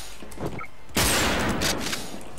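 Gunfire in an online shooter video game: a sudden loud burst of rapid shots erupts partway through, then continues as repeated cracks over background game noise.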